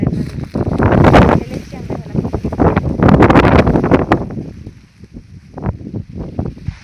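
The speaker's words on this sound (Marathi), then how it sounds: "भरपूर वारा सुटलेला आहे" Strong gusts buffet the microphone on a farm as a storm approaches before unseasonal rain, roaring in uneven surges with rustling, then easing into shorter bursts, loud and close.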